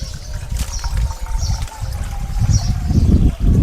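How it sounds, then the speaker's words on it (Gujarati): Water poured into a clay pot set out for sparrows, a steady trickling and splashing that runs the whole time, close and fairly loud. "જો મિત્રો હવે આપણે આની અંદર પાણી વેડીશું."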